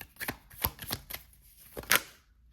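Tarot cards are shuffled by hand during a reading, giving a quiet, close run of sharp snaps and taps, five or six distinct hits with a brighter crack near the end.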